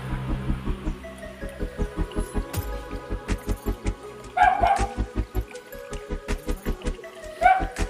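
A dog gives a long run of short, rhythmic barks nearby, steady and repeated, with a couple of brief higher yelps mixed in.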